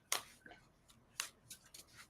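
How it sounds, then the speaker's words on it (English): Tarot cards being shuffled by hand, a few sharp riffling snaps and soft slides in short irregular bursts, close and quiet with no talking. "Cards keep wanting to not shuffle nicely."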